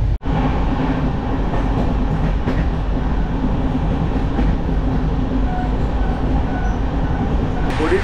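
The 13005 Howrah-Amritsar Mail train running at night, heard from inside as a loud, steady rumble with a continuous rattle of wheels on track.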